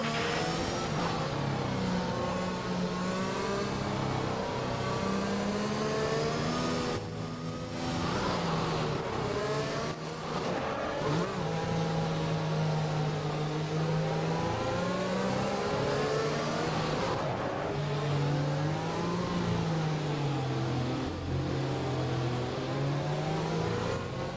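Race car engines in F1 2021 at the British Grand Prix, droning steadily as the pack runs behind the safety car, with pitch rising and falling through gear changes over a continuous, loud, unbroken roar.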